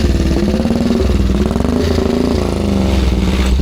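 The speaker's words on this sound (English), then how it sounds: "There's a miniature steam engine over there. If you can hear me over the." A miniature steam engine at a spring fair chugs loudly and steadily nearby, a fast rhythmic thumping beat that holds even throughout.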